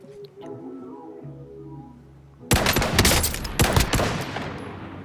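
Rapid video game gunfire bursts in loud, dense volleys after a quieter opening of musical tones, continuing heavily to the end.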